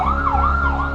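A Hatzalah private ambulance siren triggered from a community alert button, a loud wailing tone sweeping up and down over a low drone, close and continuous with no speech.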